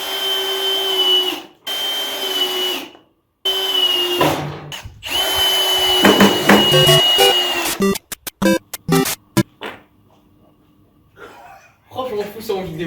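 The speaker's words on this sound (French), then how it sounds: "là je vais visser le premier pied" Power drill driving screws into a wooden leg of a homemade round rail, loud whirring bursts that start and stop repeatedly, with short pauses and clattering handling at the end.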